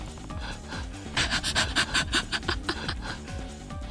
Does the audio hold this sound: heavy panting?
yes